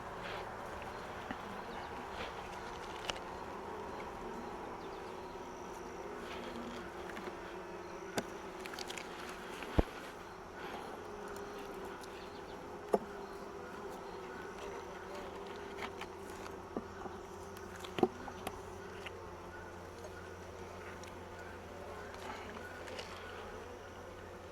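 Honeybees in a nucleus colony hive give off a faint, steady hum that runs the whole time, with scattered small clicks and knocks on top and no talking.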